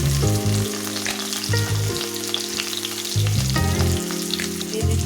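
Garlic, chopped onion and whole spices frying in hot oil, a loud close sizzle broken by shifting bursts and clatter as the pan is worked, no voices.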